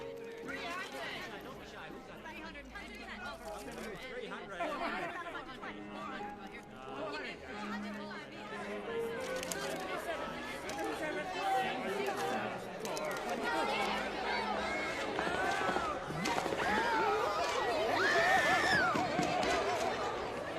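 Crowd chatter fills a busy party in the animated part of the film The Congress, a steady wash of many overlapping voices that grows louder toward the end.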